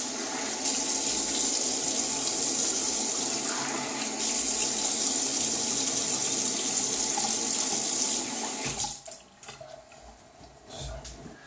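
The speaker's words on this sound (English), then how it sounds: "let me just completely rinse off" Tap water runs steadily into a sink as Monsavon shaving soap is rinsed off after a shave, a loud continuous gush that stops near the end, leaving a few faint drips and handling sounds.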